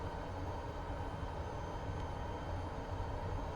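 An aircraft engine idles high in Microsoft Flight Simulator 2024 during a Paris to Dakar air rally stage over Algeria, giving a steady, even, moderately loud drone that runs unbroken throughout with no voices.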